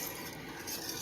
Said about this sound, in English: I'm going to go ahead and whisk this